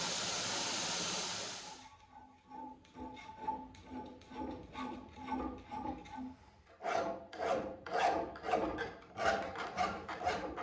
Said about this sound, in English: flatten it the rest of the way with a file